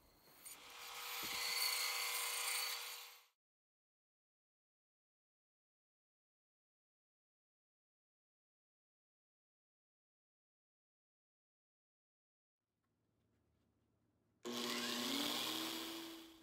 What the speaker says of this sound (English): a bandsaw.